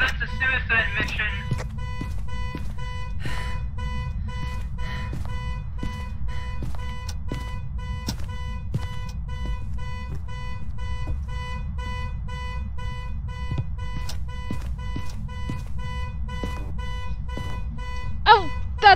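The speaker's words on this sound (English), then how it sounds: "I'm not going and turning off the car alarm right now" A car alarm sounds from a garage as a steady repeating electronic tone with sharp periodic beeps, moderately distant and persistent throughout, with a few brief louder chirps near the end.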